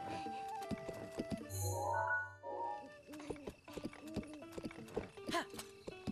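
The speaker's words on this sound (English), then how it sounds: "I don't know if I can take my horsey this far" Horse hooves clip-clop in an even trot in Breath of the Wild, crisp and close, with a brief whinny-like tonal burst midway and a voice talking over parts of it.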